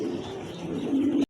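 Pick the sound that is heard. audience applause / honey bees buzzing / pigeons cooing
pigeons cooing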